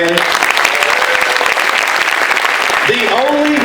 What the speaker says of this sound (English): If I get a round of applause for my beautiful family.